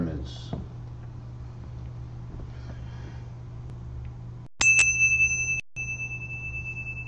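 A small bell struck twice during a Rosicrucian Gnostic Mass, two clear ringing tones with long sustaining overtones that fade, over a low steady hum in a quiet room.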